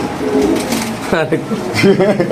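Large pigeons, including racer breeds, coo and flutter close by in a loft or market setting, with someone talking over the birds throughout.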